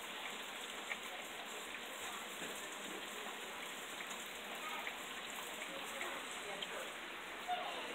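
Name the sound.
rain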